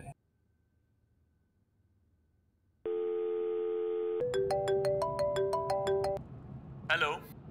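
A phone call placed on a telephone: a steady tone begins, then a repeating pattern of melodic ringback beeps sounds clearly for a few seconds, and a short voice follows at the end.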